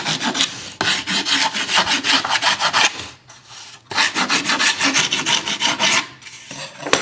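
Steady rasping strokes of abrasive on wood, fast and rhythmic, close and loud, in two long bursts separated by a brief pause.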